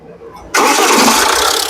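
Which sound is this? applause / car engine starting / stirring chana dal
car engine starting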